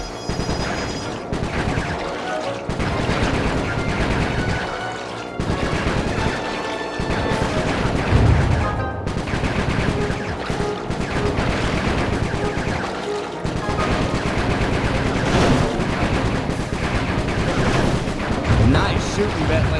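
Bentley's weapon fires in dense, sustained volleys in the Sly Cooper PS5 game, heavy blasts and crashes running almost continuously, loud and close, with game music and voices mixed in.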